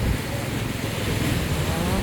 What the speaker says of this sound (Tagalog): hangin kaayo today